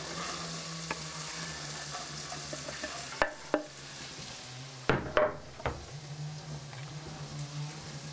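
Steady sizzling of carrots and onions frying in butter in a pot, with a few sharp clinks and scrapes of a utensil against the metal partway through.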